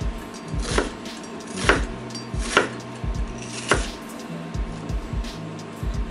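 A knife chopping garlic into small cubes on a cutting board, with four distinct, evenly spaced thuds against the wood and quieter cutting between them, heard up close.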